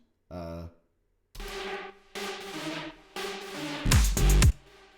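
Short musical notes are played through a fully wet delay and reverb, each smeared into a washy, echoing tail with no dry attack, ending in a louder burst of repeated echoes.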